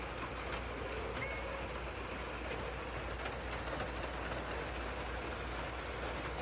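Steady rain falling outside an open door, a soft even patter with a constant hiss and no breaks.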